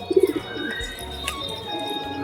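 A Deshi Giribaz pigeon gives a short burst of rapid pulsing coos up close, followed by quieter background sounds with no talk.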